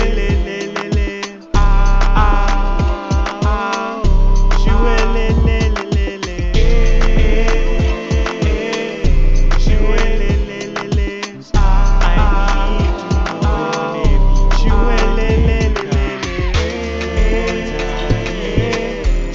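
Layered sung vocals stacked with choir-style backing harmonies over a full mix with heavy low beats, loud and continuous.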